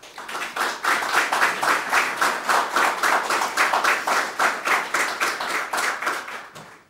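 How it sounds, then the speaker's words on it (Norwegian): Measured, rhythmic applause from a group at a Norwegian political party's national board meeting, the claps landing in a steady, almost synchronized beat throughout. "Avmålt applaus, kaller man det."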